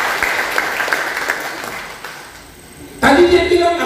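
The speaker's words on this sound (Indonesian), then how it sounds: "Kasih tepuk tangan untuk Tuhan." A church congregation claps at a Lunar New Year sermon, scattered applause under a preacher's voice that thins out, then a sudden loud burst of brighter sound takes over near the end.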